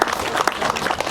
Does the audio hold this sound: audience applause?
yes